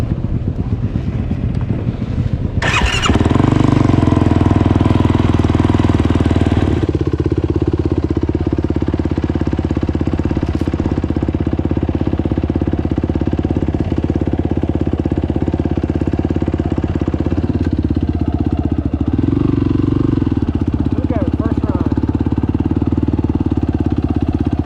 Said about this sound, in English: Gonna give the YFZ a first test run with the new HMF Performance Exhaust and the HMF Fuel Controller.